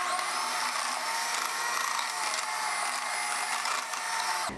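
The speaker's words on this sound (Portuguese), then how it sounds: "é melhor bater um pouquinho na batedeira." Electric stand mixer beating chilled pastry cream briefly to make it creamy again, a steady loud whir that runs without a break and then cuts off sharply at the end.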